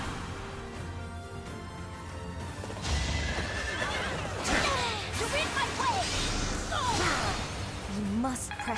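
Horse neighing in the Fire Emblem Three Houses video game: a loud whinny with rising and falling cries over a clatter of hooves and game effects, after a quieter opening stretch.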